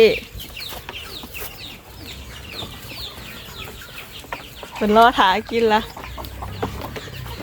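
Farm chickens cluck in a run of short, patterned calls, loudest for a few seconds midway, while someone talks throughout and birds chatter faintly in the background.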